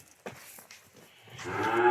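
A cow lows at a cattle farm with a rising, drawn-out moo that swells at the end, preceded by faint knocks and shuffling nearby.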